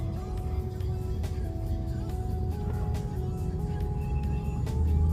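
Road traffic surrounds a car on a busy street, a steady low engine and tyre rumble that holds without pause, with faint tonal hums running over it.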